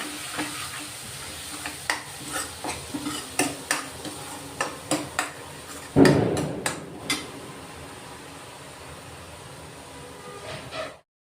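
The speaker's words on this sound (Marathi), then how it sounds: "हे वाटण आहे ना आपण चांगलं परतून घेऊ बघा" A spoon scrapes and taps repeatedly in a pan over a soft sizzle of masala paste frying in oil, the knocks coming in a quick irregular rhythm, with one louder clatter midway.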